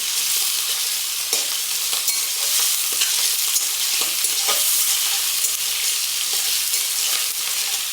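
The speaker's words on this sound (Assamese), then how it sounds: "হাঁহৰ মাংস ভাজি থাকিব লাগে" Duck meat frying in a home kitchen pan, a steady bright sizzle running throughout with scraping stir strokes breaking through at irregular intervals, close and fairly loud, no voices.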